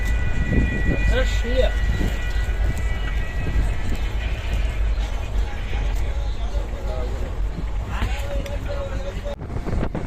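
A moving train rumbles and clatters steadily past a large flower field, with loud low-end roar, wind noise, and brief voices and squeaks partway through.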